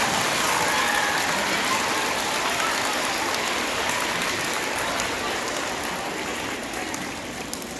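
Dense, steady applause from a junior high school audience in a presentation room, a continuous wash of many hands clapping that holds loud throughout and eases slightly toward the end.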